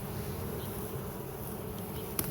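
A honeybee swarm entering a swarm trap drones in a continuous, even buzz, close and steady, with a faint click near the end and no talking.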